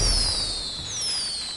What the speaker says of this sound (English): I shoot a musket